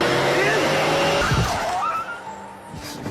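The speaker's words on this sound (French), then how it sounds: "Mais la voiture a reculé et s'est arrêtée." A car lurches backward and brakes hard, its tires squealing and skidding in a loud, drawn-out screech that fades under a continuous wash of background sound, with a voice heard alongside.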